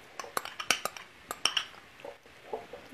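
A utensil stirs ricotta cheese in a bowl nearby, with sharp clinks and scrapes against the sides in an irregular rhythm, then softer mixing, and no voices.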